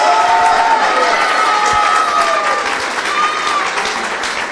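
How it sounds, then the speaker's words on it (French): A crowd of Nice football supporters at a fan event applauds steadily, a dense, even wash of clapping with a few raised voices and whistles mixed in, sustained loud throughout. "tous les Niçois qui sont là et qui peuvent vous applaudir"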